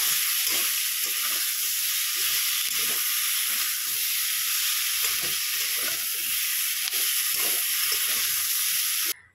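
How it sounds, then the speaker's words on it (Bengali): Potatoes, pointed gourd and fish frying in a pan make a steady, loud, close sizzle that hisses throughout, broken by frequent soft knocks and scrapes of stirring; no one speaks, and the sizzle cuts off abruptly at the end. "আলুটা ভেজে নেব, দিয়ে মাছের পটলটা ভাজবো, লাস্টে মাছটা ভাজবো"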